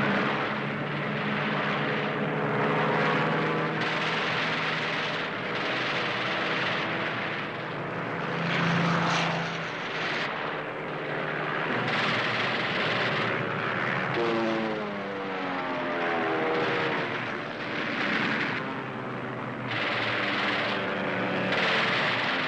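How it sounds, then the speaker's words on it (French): Spitfire fighter planes of 1940 roar as they take off and fly past, a dense, sustained propeller-engine drone with rising and falling swells, loud and continuous throughout. "Ainsi décollèrent le 15 septembre 1940 tous les Spitfire disponibles."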